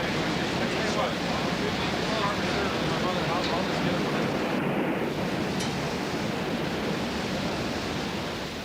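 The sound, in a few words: ocean waves crashing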